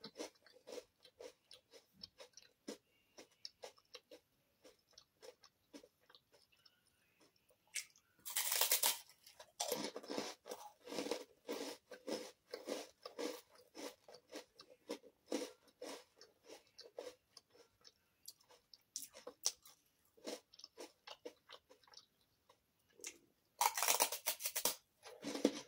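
Crunchy toast spread with butter and sugar being chewed up close, a rapid series of dry crisp crunches with quieter stretches between louder bursts, no talking over it.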